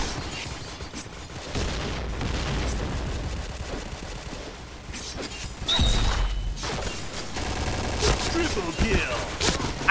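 Rapid gunfire bursts and impacts from the shooter game Point Blank, dense and loud across the whole stretch, with a player talking over the action.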